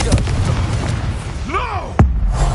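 A Confringo fire spell in Hogwarts Legacy bursts with a swooping whoosh followed by a sudden booming explosion, loud and close, after a spoken incantation.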